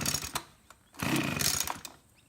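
A cheap junkyard two-stroke leaf blower engine on choke at full throttle sputters with a few short pops, then catches for a loud, rough roar of about a second before dropping away.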